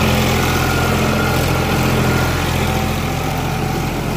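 Eicher 551 tractor engine runs with a steady low diesel drone and constant even rumble, close and loud, without a break from start to finish.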